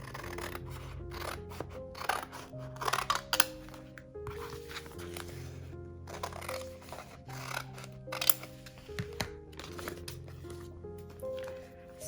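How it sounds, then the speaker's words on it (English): Paper scissors snipping and slicing through colored fabric for a pumpkin trivet, quiet and close, with repeated crisp cuts and rustling handling noise throughout. "I got my paper scissor"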